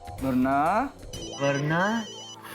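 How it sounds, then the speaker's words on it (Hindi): A telephone ringing indoors in two long melodic ringtone bursts separated by a short gap, loud and close, with a voice partly overlapping. "फोन आ गया"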